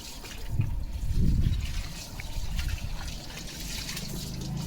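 Water runs and trickles from a garden hose pipe in a yard while a pet dog named Leo plays in the spray, a steady splashing stream with a few louder gushes near the start.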